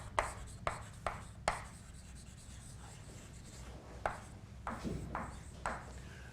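Chalk or marker strokes on a lecture-hall board as a Schrödinger equation is written out, several sharp taps and scrapes at an uneven rhythm over a low steady room hum, close and moderately loud, with no talking.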